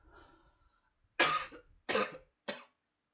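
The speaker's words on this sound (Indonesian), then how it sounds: "Batuk." Three sharp, close coughs in quick succession after a faint breath, each a short harsh burst with the last one shorter, in an otherwise quiet room.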